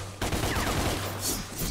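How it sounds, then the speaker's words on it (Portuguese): Gunfire in the video game DMC: Devil May Cry, with infinite ammunition, comes as one dense, loud burst of rapid shots that starts abruptly and continues without a break. "A gente atira à vontade."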